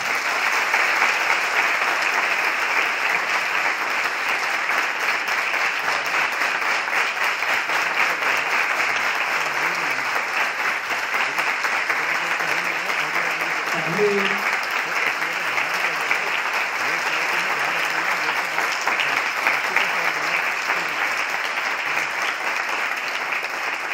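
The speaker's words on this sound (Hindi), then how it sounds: "जिस जिसको अच्छा लगा है वो ताली बजा सकता है।" An audience at an indoor meditation class discussion claps in sustained, dense applause lasting the whole stretch, loud and even throughout, with a faint voice briefly audible underneath.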